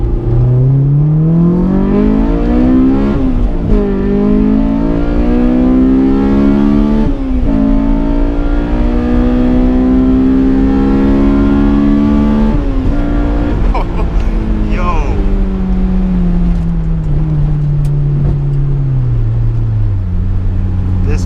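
A Honda S2000 engine revs hard through first gear toward 9000 RPM, a loud, close, rising wail that climbs, drops on shifts and climbs again, with brief talk over it.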